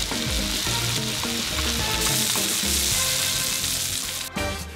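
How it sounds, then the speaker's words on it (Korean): Korean-style marinated meat, seasoned with garlic, green onion and soy sauce, fries in a pan with a loud, dense, continuous sizzle and crackle all the way through, and no talking. "고기 양념해서 구워 먹으려고요."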